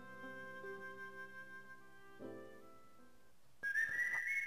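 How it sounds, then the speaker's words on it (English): A Moogle whistles a short melodic tune in Final Fantasy Fables: Chocobo's Dungeon, clear sustained whistled notes that pause briefly, then a higher, brighter trill near the end over soft game music. "Whistling a tune, he's there."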